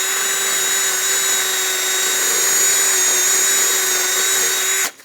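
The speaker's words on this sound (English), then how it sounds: "I'm going to take a wire wheel on a drill and just wire wheel this clean" A drill spinning a wire wheel grinds rust off a 1978-1987 Chevrolet El Camino rear axle shaft, a steady close whine with a bright metallic rasp that runs continuously before cutting off abruptly.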